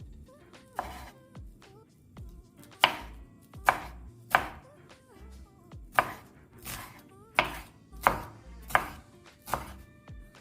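A knife chops fresh cilantro on a board in a steady series of about a dozen crisp, close thunks, spaced under a second apart, with no talk.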